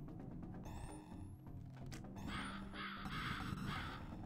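Crows caw repeatedly in the fantasy action game Shalnor Legends as crow projectiles are fired, harsh calls layered over game music and rising whooshing effects, loud and continuous without talk.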